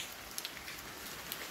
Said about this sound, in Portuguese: Continua chovendo, desde as 2 da manhã que está chovendo